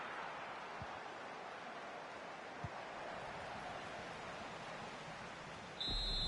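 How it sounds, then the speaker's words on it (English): Referee's final whistle in the FC 25 football video game, a short, sharp blast right at the end over a steady wash of stadium crowd noise. "And there goes the final whistle."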